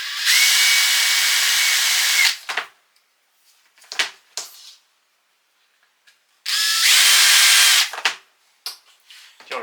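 Power drill removing the upper crankcase screws from a vandalised scooter, two loud high-pitched whirring bursts of about two and one seconds with short clicks and handling clatter of tools and parts between them, no talking.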